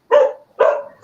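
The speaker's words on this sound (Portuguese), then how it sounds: "meus cachorros aqui estão abusando" Dogs at a rural home bark sharply and close by, two full barks with the start of a third in quick succession.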